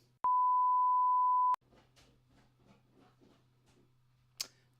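A camera gives one steady electronic beep of just over a second as it powers off, loud and close, followed by faint ticking and a sharp click.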